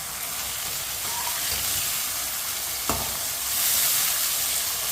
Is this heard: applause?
no